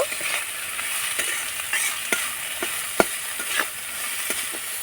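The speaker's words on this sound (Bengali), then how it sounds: "এবার নাড়াচাড়া করে গাজরটাকে ভেজে নেব" Chopped carrots stirred and fried in a pan, a continuous bright sizzle punctuated by sharp spoon taps and scrapes at irregular intervals, close, with no talking.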